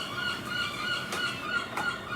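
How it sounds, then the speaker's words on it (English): Seagulls calling, a dense chorus of harsh, honking cries repeating over constant background noise, fairly distant and moderately loud, with no voices over them. "The seagulls are making lots of noise about Pence."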